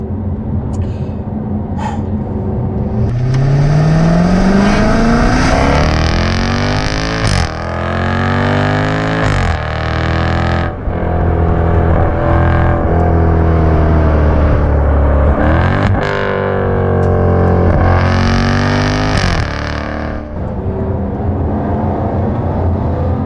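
Jaguar XE SV Project 8 accelerating hard in 4th gear from about 3,000 RPM, its engine note rising steadily and loudly with strong rising harmonics, easing off briefly between pulls before climbing again, continuous and close throughout.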